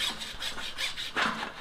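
A saw cuts the wooden handle off a blacksmith's rounding hammer, making close, rhythmic rasping strokes about five per second, with one stronger stroke near the end.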